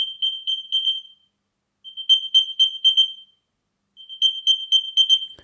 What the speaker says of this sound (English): play lost sound for you to hear new improved AirTag Generation 2 in action